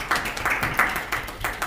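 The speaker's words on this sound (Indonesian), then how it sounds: "Tepuk tangan untuk Naomi." Brief burst of classroom applause for a student, a cluster of claps rising and falling in quick pulses, moderately loud and close, with no talking over it.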